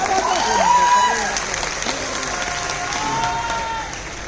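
A mushaira poetry gathering audience applauds steadily, the clapping swelling and then easing off, with a voice calling out over it near the start.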